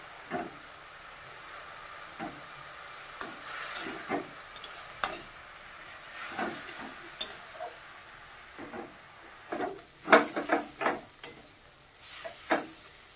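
Mustard greens with turmeric, salt and a little sugar fry quietly in a pan, with a soft hiss beneath repeated short stirring scrapes and taps that grow louder toward the end.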